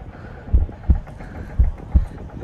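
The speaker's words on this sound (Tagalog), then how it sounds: "Naririnig ko ang lakas ng tibok ko." A deep, muffled heartbeat effect gives two double thumps in a slow, regular rhythm, loud and close against a faint steady hum.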